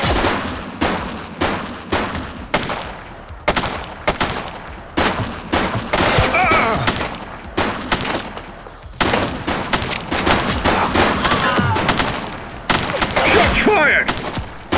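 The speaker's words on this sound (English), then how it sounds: "Shots fired!" Gunfire in The Precinct video game, with bursts of single shots and rapid automatic fusillades that come in uneven clusters, loud and close, mixed with mechanical clatter and some voices.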